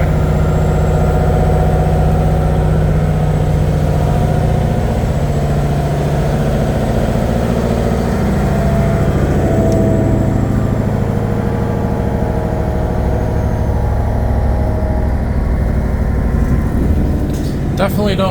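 A steady, low diesel train engine rumble idles close by on an Ottawa O-Train Trillium Line train at night, continuous and unchanging for the whole stretch.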